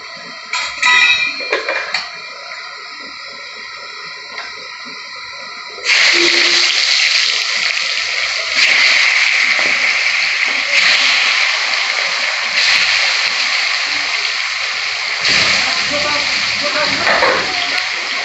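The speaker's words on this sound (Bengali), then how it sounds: "তেলটা গরম হয়ে গেছে এবার আমি একে একে মাছগুলো দিয়ে দেবো" Fish pieces go one by one into hot oil for a spicy fish curry: a loud, dense frying hiss that starts abruptly after a few seconds of tonal sound and continues with bursts of splatter.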